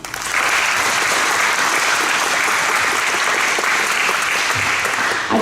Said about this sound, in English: if we could give them a little clap